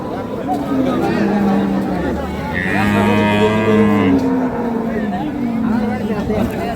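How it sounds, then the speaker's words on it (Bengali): A dairy cow lets out a long, loud moo close by amid a busy crowd of chattering voices at the Ambari cattle market in Dinajpur, Bangladesh. "আজকে দিনাজপুর জেলার আমবাড়ি হাটে যে গাভী গরুগুলো রয়েছে"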